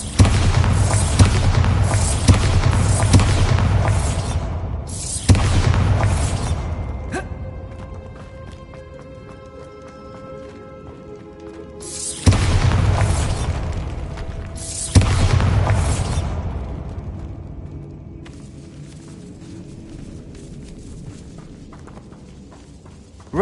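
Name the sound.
Bombarda exploding spell blasts in Hogwarts Legacy video game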